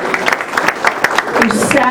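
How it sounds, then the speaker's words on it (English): A lunchtime event audience gives itself a round of applause, with scattered claps under loud, close speech that runs through the short stretch. "Give us a round of applause. Big round of applause for yourself."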